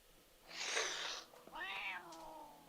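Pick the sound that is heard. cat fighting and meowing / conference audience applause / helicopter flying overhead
cat fighting and meowing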